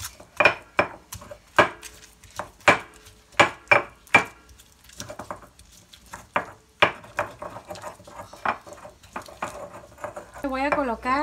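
Chili being ground by hand for a pineapple salsa gives a series of sharp, close knocking strikes in an uneven rhythm, louder at first and then softer, with a voice talking near the end.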